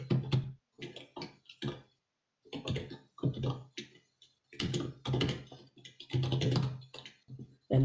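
Computer keyboard keys tapped while typing C++ code during a programming lecture, heard as close, irregular bursts of quick clicks separated by short pauses, with no talking.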